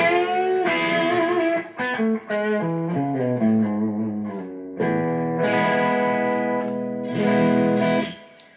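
An ESP LTD electric guitar on its bridge pickup plays a bright, slightly distorted sequence of notes and chords, loud and close, ringing out with some sustain.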